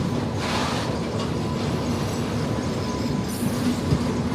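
An Intercity Express train sits at Rajkot being washed, giving a steady, loud wash of hissing water spray and rumbling rail noise with no talk.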